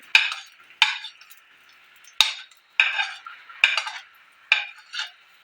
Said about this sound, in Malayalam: നമുക്കിത് വെളുത്തുള്ളി ഒന്ന് വഴറ്റി കൊടുക്കാം. വെളുത്തുള്ളി ഇഞ്ചി ഇടുന്നത്.